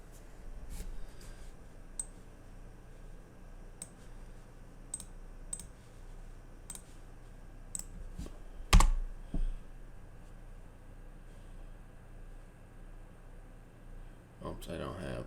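Computer keyboard clicks while setting up Klipper and Mainsail on a Raspberry Pi, with sparse light keystrokes over a quiet background and a firmer cluster of presses near the middle like hitting enter.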